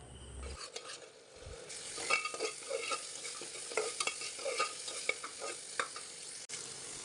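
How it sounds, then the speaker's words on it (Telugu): Goat head and trotter meat with ginger garlic paste sizzles in a pan while a spoon scrapes and stirs it in repeated strokes, close and fairly quiet. "ఇప్పుడు దీంట్లోనే కొద్దిగా అల్లం వెల్లుల్లి పేస్ట్ని యాడ్ చేసుకొని ఇదంతా దగ్గరగా ముద్దలా అయ్యేంత వరకు అయితే బాగా ఫ్రై చేసుకున్నాను."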